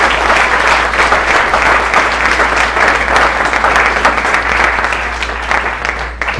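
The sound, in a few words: congregation applauding in church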